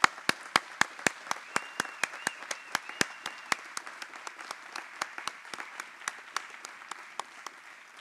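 An audience at an alumni awards ceremony applauds the honorees with steady, rhythmic clapping that carries on throughout and eases slightly toward the end.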